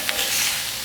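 Steady broadband sizzling of hanger steaks frying on a hot barbecue grill, close and continuous, with no voices.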